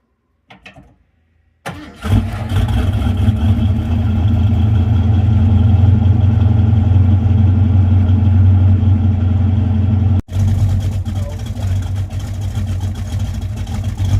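A 1980s Fox-body Ford Mustang engine with open, hanging tailpipes and exhaust leaks cranks and fires up, then idles loudly with a rough, throaty rumble, briefly cutting out before running on.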